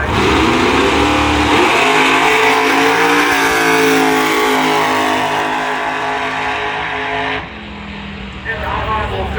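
A drag racing car roars down the strip at Bradenton Motorsports Park, its engine loud and close under full throttle with rising pitch, then cutting off near the end while an announcer talks over it.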